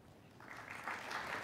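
Audience applause at a college convocation ceremony, starting soft and building into steady, fairly faint clapping in a large hall.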